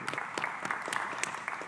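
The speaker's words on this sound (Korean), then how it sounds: "박수하겠습니다." Steady applause from a church congregation at a Sunday worship service, a continuous patter of many hands clapping at an even level for a brief moment.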